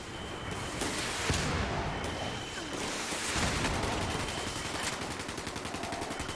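Sustained rapid gunfire from the Dune video game, dense bursts and rattling volleys running continuously at steady loudness, with faint talk underneath.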